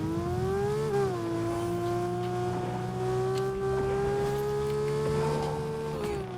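Porsche driving in the video game Fortnite: a loud, sustained engine whine that climbs, dips briefly as it shifts, then holds a steady high drone before rising again near the end.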